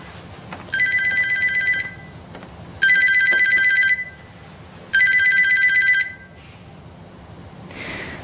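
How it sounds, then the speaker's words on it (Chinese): A telephone rings in three evenly spaced, electronic bursts, each trilling for about a second, loud and close in a quiet indoor room. "好吧，那你先接电话吧。"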